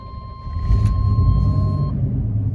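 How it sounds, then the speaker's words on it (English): A truck engine rumbles low and steady, swelling a little after a moment and then holding a level idle with a faint tonal whine on top; no one talks. "It does take a little bit to start, but it starts pretty much right up"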